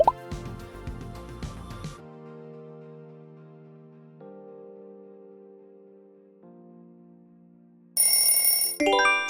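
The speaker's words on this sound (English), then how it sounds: "Spot on! It's Panasonic!" A Panasonic phone ringtone plays short plinking, droplet-like electronic notes and then a sustained tone that fades. A brief bright chime cuts in near the end.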